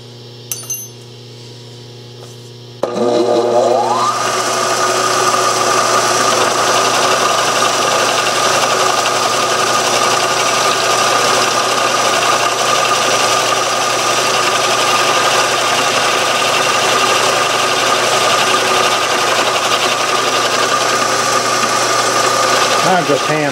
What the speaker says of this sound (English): I got the boring head in there and did a couple cleanup passes